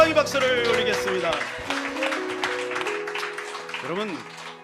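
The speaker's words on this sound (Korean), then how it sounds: "그 주님 앞에 영광의 박수를 올리겠습니다." Church congregation applause after a worship song, a burst of hand clapping that starts strong and thins out over a few seconds, mixed with lingering music and voices.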